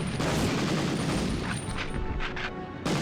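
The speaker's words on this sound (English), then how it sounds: "The Thompson was a 45, so they should all sound like this." Thompson .45 submachine gun rattles in sustained, dense automatic fire in Medal of Honor on the PlayStation, with loud continuous bursts and a short gap before more shots near the end.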